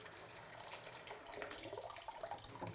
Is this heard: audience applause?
no